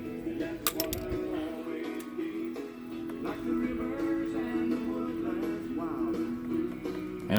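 A wrench gives a brief, sharp metallic click as it snugs down a bolt on an engine shortblock, heard early on against quiet shop background.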